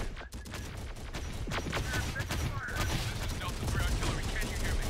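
Sustained gunfire fusillade in the Terminator: Dark Fate Defiance video game, dense overlapping rifle and machine-gun bursts with mechanical clatter, loud and continuous throughout the battle.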